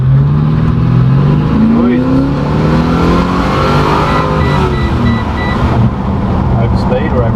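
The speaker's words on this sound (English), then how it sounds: "Big first gear pull." Holden VX SS with an LS1 V8 pulling hard in first gear, engine note rising loud and close from inside the car, with people talking over it.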